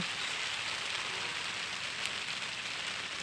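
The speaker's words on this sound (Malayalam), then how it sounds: "ഇതാ ചെറുതായിട്ട് മഴ പെയ്യണുണ്ട് കേട്ടോ." Light rain falls in a soft, steady hiss with no voices.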